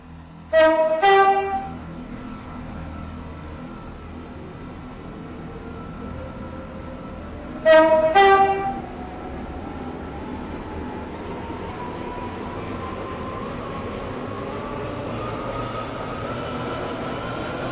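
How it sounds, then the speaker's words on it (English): A four-coach passenger train runs on rails, a steady rumble of wheels carrying through the whole stretch, broken twice by short bright two-tone horn blasts near the start and in the middle. "This train is formed of four coaches."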